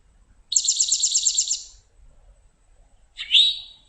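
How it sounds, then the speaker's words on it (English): A towhee sings a rapid, clear trill of about a second. After a pause it gives one sharp, insistent chirp, both close and alone against near silence. "it's a very straightforward chirp and very insistent, and that's typical of a towhee"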